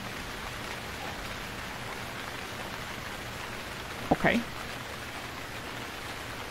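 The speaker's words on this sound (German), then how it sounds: "Und wir erwachen im Regen," Steady rain falling in the Stranded Deep survival game, a continuous even hiss throughout, with a brief spoken word near the end.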